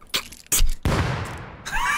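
Bursts of gunfire ring out in a Rust gunfight, several sharp shots followed by a loud, sustained volley with a rolling tail, then a final cracking shot.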